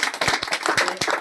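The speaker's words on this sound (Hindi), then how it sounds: "एक ताली सर के लिए बजाया जाए" An audience at a local public gathering in Begusarai claps for an honoured guest in a short, close, loud burst of dense hand clapping with no talking over it.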